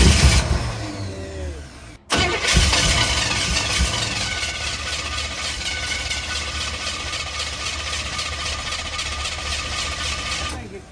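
A race truck engine cranks and fires, then settles into a loud, rough, continuous running roar with a brief cut early on, close by. Faint voices are audible beneath it.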